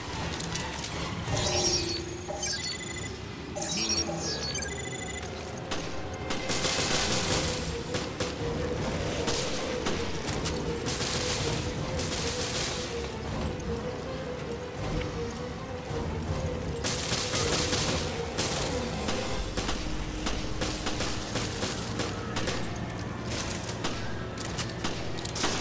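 Resident Evil Revelations gameplay delivers a dense run of gunfire, repeated shots and booms with shattering impacts layered over a constant game soundscape, loud and busy for a long stretch.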